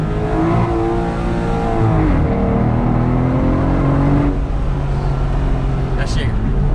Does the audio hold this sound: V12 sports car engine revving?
yes